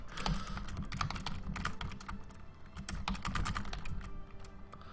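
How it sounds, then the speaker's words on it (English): Steady typing on a computer keyboard, with dense, irregular clusters of key clicks running continuously throughout at close range over a low background hum. "I keep typing the wrong letter"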